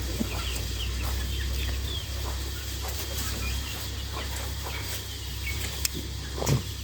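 Chickens cluck sporadically, some distance off, over a constant low hum and busy outdoor background noise.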